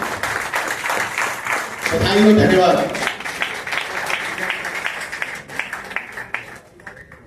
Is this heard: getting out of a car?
no